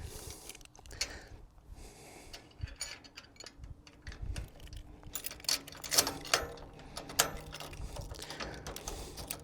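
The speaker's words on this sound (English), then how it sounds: "we'll go ahead and put the side lock on" A side lock is fitted onto a trailer lock system, making a close series of metallic clicks, ratcheting and rattling sounds in irregular bursts.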